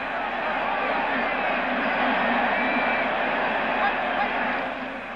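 Football stadium crowd roaring steadily after the Giants recover an onside kick against Dallas in a 1970 game, a loud sustained wash of cheering and crowd noise throughout.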